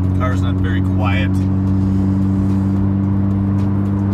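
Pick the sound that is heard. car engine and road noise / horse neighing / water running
car engine and road noise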